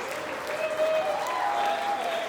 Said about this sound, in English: can you give a huge round of applause